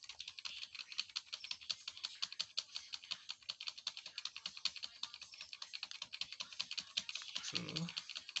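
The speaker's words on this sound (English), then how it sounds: "So I'll click this particular key," Keys clatter on a computer keyboard as a PC boots, a quick, faint, even run of taps in rapid succession, with a brief low murmur near the end.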